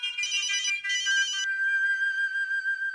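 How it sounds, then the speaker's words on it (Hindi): A telephone ringtone plays loud and alone, a bright electronic melody in two short bursts followed by a sustained ringing tone. "फोन बज रहा है।"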